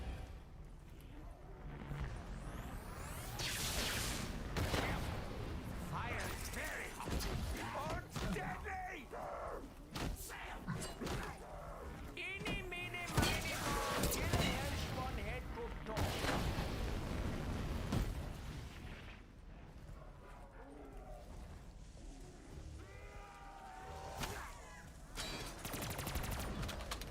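Gunfire in a Call of Duty zombies match on the Gorod map, with repeated loud bursts and impacts spread throughout while a player talks over them.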